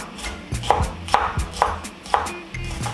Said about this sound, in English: We are going to start by chopping up our onions.